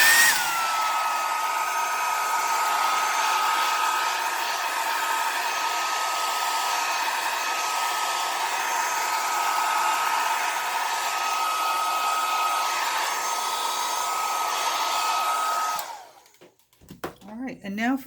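A hair dryer blows steadily and loudly at close range for about fifteen seconds, drying alcohol ink splatter flowers, then cuts off abruptly and leaves a few brief handling noises.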